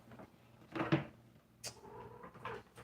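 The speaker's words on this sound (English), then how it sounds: "there's a little cat making a cat noise" A little cat gives a short, faint meow in a quiet room, preceded by a soft clack and rustle of something being handled nearby.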